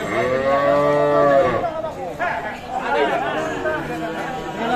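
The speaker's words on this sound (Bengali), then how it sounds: "দেখছেন সামনে ছোট ছোট বাছুর।" Calves and cattle moo at a village livestock market in Thakurgaon, Bangladesh. One long, loud moo comes up close, then several shorter lowing calls follow over a chattering crowd of voices.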